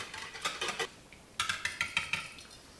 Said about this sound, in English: I just prefer a whisk, and that way I have a little more control over it.